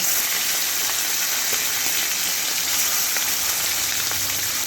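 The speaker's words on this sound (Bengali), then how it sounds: "একটু ভালো করে কড়া করেই মাছের মাথাগুলোকে তেলের মধ্যে ভেজে নিচ্ছি" Hilsa fish heads, rubbed with salt and turmeric, fry hard in hot white oil, giving a dense, steady hiss and crackle close by, without pause and with no voices.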